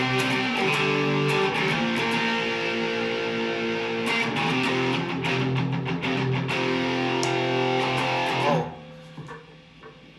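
Stratocaster electric guitar on the bridge pickup with distortion, a loud, sustained overdriven chordal passage ringing for about eight seconds before cutting off.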